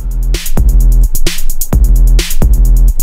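A distorted square-wave synth bass, pushed through a maximizer-style distortion, plays loud repeating notes with gritty harmonics and rhythmic bright noise bursts, about three phrases in quick succession with no talking.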